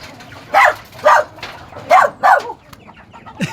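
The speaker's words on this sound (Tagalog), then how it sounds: "May aso pa sa taas." Four sharp barks in two pairs, fairly close, with a quieter stretch and a faint extra yelp at the end; no talking.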